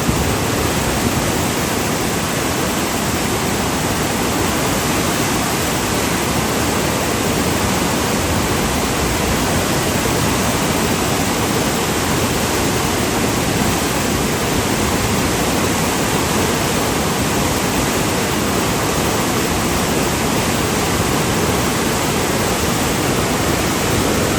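Water rushes over the spillway of the Iranaimadu reservoir in Kilinochchi, a loud, steady, broadband roar that fills the whole stretch without letting up.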